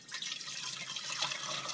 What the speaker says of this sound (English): First thing I like to do is put water into the jar.